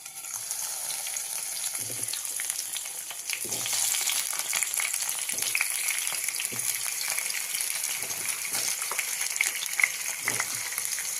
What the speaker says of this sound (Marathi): याला तेलावरती आपण चांगलं मऊ पडेपर्यंत चांगलं भाजून घ्यायचं